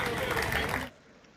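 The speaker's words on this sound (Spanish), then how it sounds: "estaban siendo aplaudidos por los bomberos" Applause from firefighters greeting arriving medical residents at the Long Island Jewish Medical Center in New York, a brief burst of steady clapping that cuts off abruptly, fairly faint.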